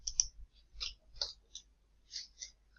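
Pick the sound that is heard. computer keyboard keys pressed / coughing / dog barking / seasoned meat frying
computer keyboard keys pressed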